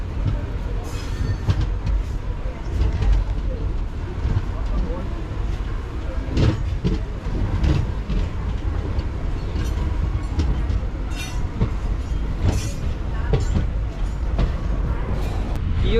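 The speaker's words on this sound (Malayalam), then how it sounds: "കൊല്ലം ജംഗ്ഷനിലെ 5ാമത്തെ പ്ലാറ്റ്ഫോമിൽ നിന്നാണ് നമ്മുടെ വണ്ടി പുറപ്പെട്ടിരിക്കുന്നത്." A passenger train pulling out of platform 5 at Kollam Junction rumbles loudly and steadily from inside, with faint wheel clicks over the track; a voice seems to speak now and then over the noise.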